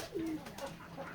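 Pigeon chicks coo in a short, faint run of soft low calls at a pigeon farm in Keshabpur, Jessore, heard alone without talk.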